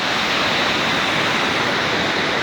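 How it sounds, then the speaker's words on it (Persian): The Iskanderkul waterfall roars as a steady, loud, dense wash of falling water that fills the whole moment without a break. "بچه اینا شرشره اسکندر کول."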